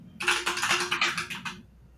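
A computer keyboard clacks in a quick burst of about a dozen close keystrokes, loud and crisp, then stops.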